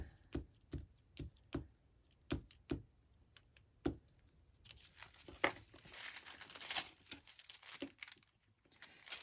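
Tissue paper is crinkled and handled close up for a craft piece, with sharp separate crackles at first, then a denser, continuous rustling in the second half, fairly quiet overall.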